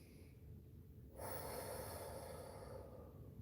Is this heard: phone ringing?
no